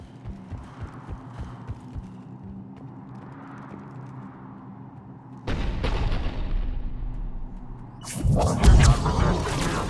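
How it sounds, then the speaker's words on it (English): Heavy cannon fire in the Mass Effect 3 video game: a sudden loud booming burst partway through, then an even louder crashing blast near the end over a low rumbling battle background. "The cannon fire is clearing the way."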